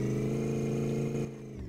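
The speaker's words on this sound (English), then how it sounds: "So there's definitely a brake pad sticking." A car with an automatic transmission and a sticking brake pad moves slowly, giving a steady humming drone with harmonic whine that drops and quiets near the end, no voices.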